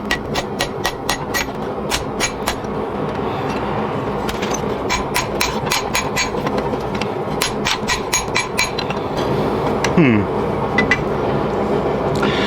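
A forged steel spatula is struck with a hammer on an anvil in a fast, steady run of sharp metallic blows, close and loud, with a voice talking under the strikes.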